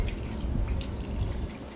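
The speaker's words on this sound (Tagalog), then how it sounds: "Lagyan ng tubig." Water pours steadily into a pot, a continuous splashing gush with gurgling, close and fairly loud.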